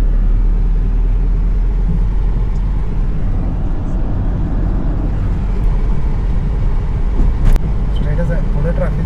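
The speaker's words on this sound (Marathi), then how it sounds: "पुढे ट्रॅफिक आहे" Steady road traffic rumble near Miramar Beach in Panjim, a dense continuous drone of passing vehicles with a brief sharp knock near the end, voices faintly present over the noise.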